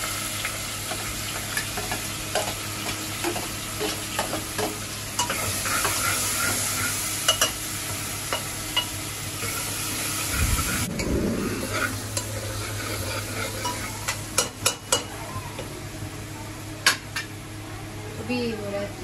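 Onions hiss and fry in mustard oil with whole spices, stirred with clinks and scrapes against the pan, a steady close sizzle with a burst as they go in and occasional talk.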